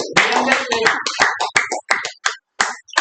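Hands clap at a Toastmasters club meeting in a burst of overlapping claps that thins into a few separate, sharp claps with short gaps between them.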